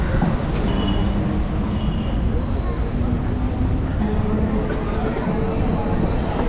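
A suburban MEMU electric train rolls into Kurambatti railway station near Chennai, a continuous loud rumble and rattle of wheels and carriage noise with faint tonal hums layered on top.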